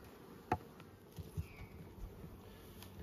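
Honeybees buzz faintly around open hives during an inspection, a soft diffuse drone with a few sharp knocks and clicks close by.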